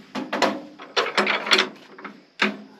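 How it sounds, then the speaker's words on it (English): Sharp metallic clicks and clanks come in short clustered bursts as a hand crank is fitted into the front of a Farmall A tractor, close and fairly loud with pauses between. "This is the actual hand crank piece. You put in the front here."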